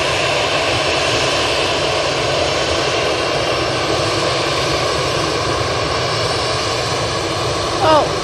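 An EasyJet jet airliner passes at Manchester Airport with a loud, steady broadband engine roar that holds for the whole stretch, a faint voice briefly audible near the end.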